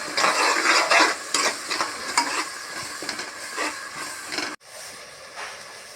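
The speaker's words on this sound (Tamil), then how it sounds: "அரைச்சி வச்சுருக்கிற புதினா பட்டை கிராம்பு எல்லாத்தையும் ஒன்றா சேர்த்துக்கலாம் சேர்த்துட்டு எண்ணெய் தெளிய கொஞ்சம் அப்படியே வதக்கி விட்டுக்கலாம்" Ground mint, cinnamon and clove masala frying in oil for a home-style chicken biryani, a loud steady sizzle and hiss with stirring scrapes, dropping briefly near the end and then resuming more quietly.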